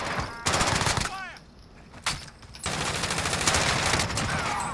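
Gunfire rattles through a video game match in rapid automatic bursts, loud and close, separated by brief gaps, with a short laser-like chirp and a voice talking over part of it.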